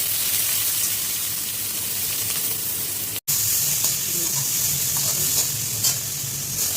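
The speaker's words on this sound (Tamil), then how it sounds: "பருப்பு ரசம் எண்ணெய் ஊற்றி கருவேப்பிலை பருப்பு, பூண்டு போட்டிருக்கேன், வெங்காயம்," Curry leaves, lentils, garlic and onion frying in oil for a Tamil dal rasam, a loud continuous sizzle with stirring scrapes and a brief cut in the middle, close up with no voices.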